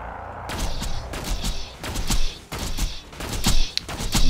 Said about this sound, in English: Got hit by those constructor missiles.